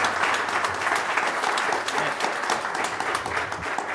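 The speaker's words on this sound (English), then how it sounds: "giving the panel a round of applause" Steady, dense applause from a community housing meeting audience, sustained at an even level throughout with no voices standing out.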